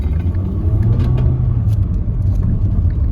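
A 2010 Mercury Milan's engine rumbles loudly up close with a deep, steady throb and slight rises in pitch, no talking.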